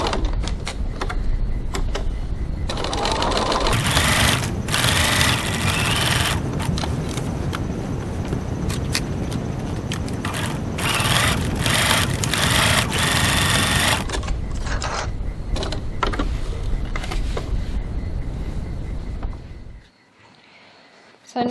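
A sewing machine stitches two seams on a crossbody bag with a recessed zipper, its motor running in a steady, loud whir for most of the stretch with brief pauses and restarts, then stopping near the end.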